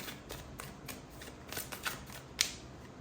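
Tarot cards are shuffled and drawn close by, with soft, rapid riffling and slapping flutters, small card snaps and a brief bright click near the end, all fairly quiet and with no voices.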